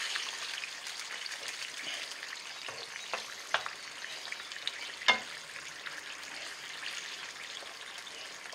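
Eggplant pieces cook in a pan of tomato sauce, giving a soft, steady sizzle and crackle with a few sharper pops and spatters, fairly quiet and with no voices.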